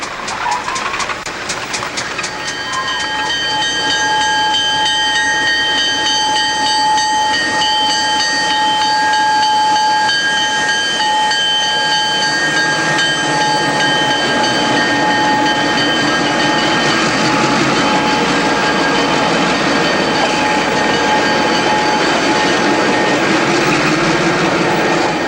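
Newfoundland Railway train Extra 944 East, in 1989, departs Clarenville for St. John's: a loud, steady rumble and hiss of a nearby train with a long sustained tonal whine, building after the first few seconds.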